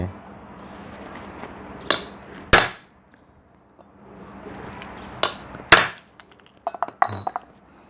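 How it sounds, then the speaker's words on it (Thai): Hammering a bushing into a Hatari 18-inch fan motor: two sharp metallic strikes stand out, then a quick series of lighter taps near the end, with someone talking between the blows. "ผมจะใช้การตอกอัดเข้าไป"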